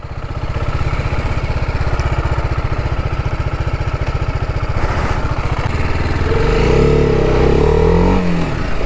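A TVS Apache RR310 motorcycle engine runs steadily and close while riding, a dense throbbing drone that rises in pitch toward the end as the bike accelerates, with no talking.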